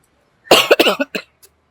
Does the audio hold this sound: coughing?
yes